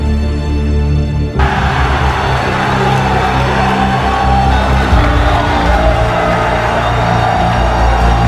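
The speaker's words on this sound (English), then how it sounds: "Him and Scumpy getting the crowd pumped up and on their side." A large crowd at an esports event cheers and roars loudly and continuously, with whoops and shouts swelling over a constant din.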